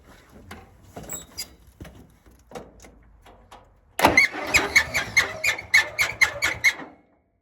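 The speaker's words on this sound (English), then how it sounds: "the water pump itself makes a horrendous noise" Quiet clicking and knocking give way to a harsh, rhythmic squealing racket from the failing water pump on a Massey Ferguson 50 tractor's Continental Z134 engine, loud and close, pulsing steadily for a few seconds before stopping.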